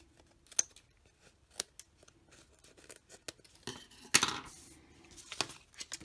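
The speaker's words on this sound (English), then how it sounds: "Then you can just take your scissors and trim the pieces that are hanging over." Scissors snip through paper card in scattered, sharp cuts, with a cluster of quick snips and a brief rustle partway through.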